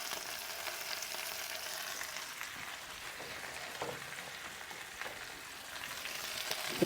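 Onions frying in a Dutch oven give a soft, even sizzle with faint crackles, quiet and steady throughout, heard close with no voices.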